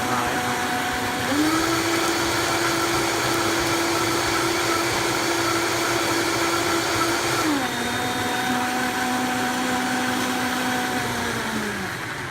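A VitaMix blender running on high while blending a thick red breakfast smoothie, a loud steady motor whine that ramps up, holds, then drops in pitch and winds down near the end.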